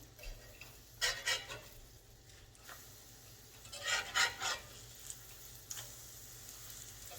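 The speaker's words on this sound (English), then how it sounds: "now it's time to flip them" Pancakes are flipped in a sizzling pan: soft frying hiss runs throughout, broken by a few short scraping and rubbing bursts of a spatula working under them, two clusters of quick scrapes followed by a lighter one.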